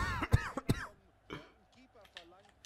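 A German gamer with a cold, playing FIFA 15 co-op on Xbox One, gives a couple of sharp throat-clearing coughs up close, followed by quieter mumbled speech.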